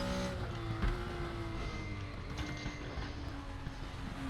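A BMW M1 Procar engine drones at Bathurst in Raceroom, a close, continuous engine tone that shifts pitch slightly, with a brief thump early on and no talk.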